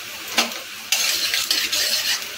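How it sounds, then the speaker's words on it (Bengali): Whole spices (coriander, cumin, bay leaf, dried red chilli and a pinch of asafoetida) sizzle loudly in hot mustard oil, with a sharp scrape at first, then a burst of crackling frying and occasional stirring clinks. "ফোড়নটাকে ভালো করে ভেজে নেব।"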